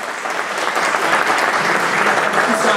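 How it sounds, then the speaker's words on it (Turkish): An audience applauds a teacher at a Beyazay event in the Netherlands, with loud, sustained clapping that holds steady from start to finish. "Alkışlarımız hocamız için"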